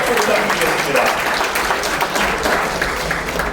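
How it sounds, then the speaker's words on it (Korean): Audience at a memoir book launch event at the National Assembly Museum gives a loud round of applause. Dense, continuous clapping fills the hall without pause. "여러분 다시 한번 큰 박수 부탁드리겠습니다"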